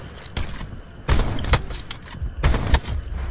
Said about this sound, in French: Tu sais que ton sniper il mitraille.